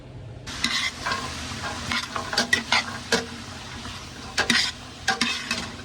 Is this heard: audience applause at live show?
no